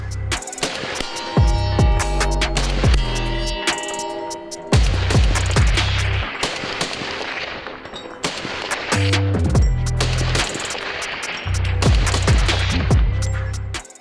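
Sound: rapid gunshots from Mossberg MMR Pro AR-15 rifle

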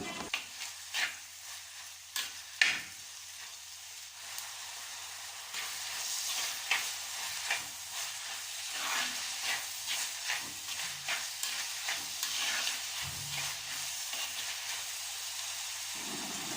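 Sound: onions being stirred and sautéed in a pan

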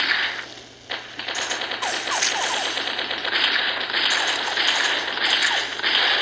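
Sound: machine gun fire in a video game

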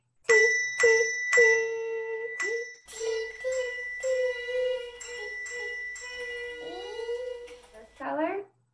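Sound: colored handbells ringing in music class

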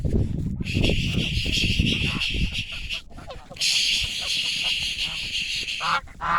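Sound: geese honking

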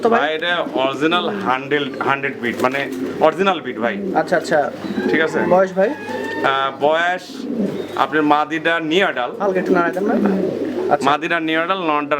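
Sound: pigeons cooing

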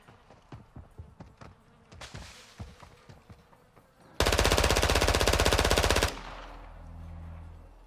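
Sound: gunfire with incendiary rounds in a video game

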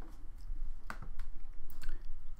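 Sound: pressing WSAD keys on a computer keyboard

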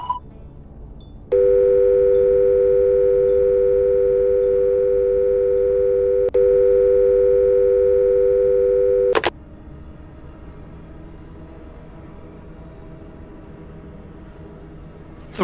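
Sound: telephone dial tone

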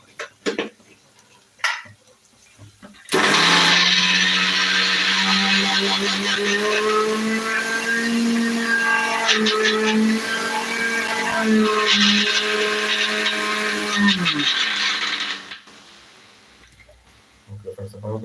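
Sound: mixer grinder (mixie) grinding ingredients

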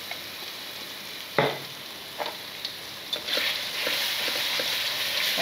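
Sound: ground spice paste sautéing in a pan

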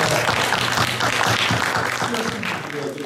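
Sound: audience applause

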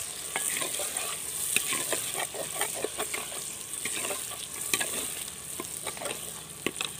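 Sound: tomatoes added and frying in a pan for dal

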